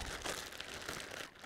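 A short burst of crinkling plastic rustles close by as a bag is shaken, brief and fairly quiet with no voices.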